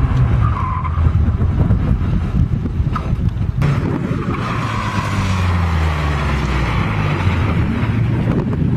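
A car fitted with an anti-lock braking system brakes hard in a safety demonstration, giving a loud, sustained tyre skid and road roar over heavy wind buffeting on the microphone, with no voices.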